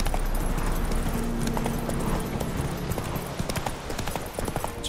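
Horse hooves clip-clop at a gallop in The Witcher 3 video game, a steady fast rhythm of hoofbeats over game ambience, with a man urging the horse on in a hurried voice.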